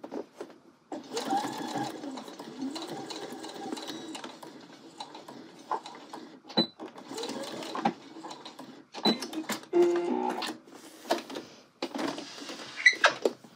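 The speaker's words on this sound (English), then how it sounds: "I'm sewing through the welt, the main part of the jacket, and then the seam allowances" A sewing machine stitches through a jacket's welt, main body and pocket-bag seam allowances to make a zippered welt pocket, running in steady mechanical bursts separated by short pauses, close and clear with no talk.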